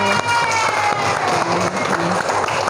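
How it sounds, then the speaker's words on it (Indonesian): Classroom applause from a group of students clapping for presenting groups, a loud, dense, continuous burst of clapping with some shouts and cheering mixed in throughout. "Beri tepuk tangan meriah buat 4 kelompok yang sudah maju."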